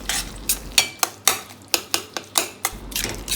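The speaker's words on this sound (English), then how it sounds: "Mix it up all really well." A spoon scrapes and knocks against a pan while sweet and sour North Indian pumpkin curry with jaggery is stirred, giving about ten sharp, evenly spaced clinks over a low burner hum.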